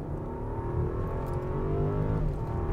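Rolls-Royce Ghost Black Badge engine revving and holding a gear under acceleration, a steady, loud low rumble with rising harmonics that run on without a break through the whole stretch.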